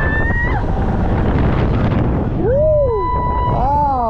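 Breeze rushing over the microphone on a ride at the Terra Mítica theme park in Benidorm, a steady loud wind roar with whooping voices rising and falling over it.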